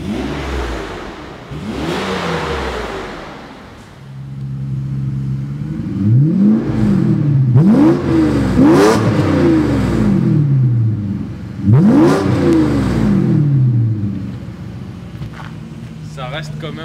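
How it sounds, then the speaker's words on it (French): Pagani Zonda V12 engine fitted with a custom exhaust made from a driveshaft, blipped repeatedly in a workshop: several loud rising revs that fall away, with a smooth, muted tone and people talking between bursts. "Ça, tu refermes, on va mettre un petit coup d'accélérateur."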